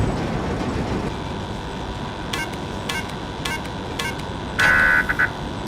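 A video-game train rumbles steadily underneath while short bright electronic beeps and tones sound intermittently above it, ending in a sustained buzzing alert tone near the end.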